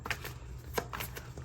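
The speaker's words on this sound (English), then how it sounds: "I just want to make sure that I get a good shuffle, okay?" A deck of cards being shuffled during a tarot reading, a few quick riffling flutters and soft slaps close by, brief and unaccompanied by speech.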